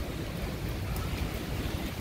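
Rain pouring during a severe storm, a steady broadband hiss with low rumble, constant and fairly near, with no voices.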